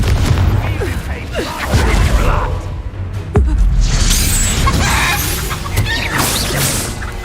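Bombarda and Confringo spell blasts in Hogwarts Legacy, several booming impacts and whooshes, loud and close, mixed with game music and effects and a voice speaking over them.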